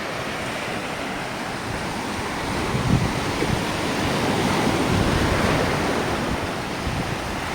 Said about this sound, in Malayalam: തിരമാല അടിച്ച് വരുന്ന വരവ് കണ്ടോ?